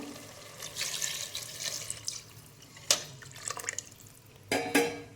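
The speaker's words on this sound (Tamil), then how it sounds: "இப்போ நம்ம எடுத்து வச்சுருக்க தண்ணியை சேர்த்துக்குவோம்" Water pours and splashes into a pot of cooking chicken biryani, soft and close, with a few louder sloshing bursts along the way.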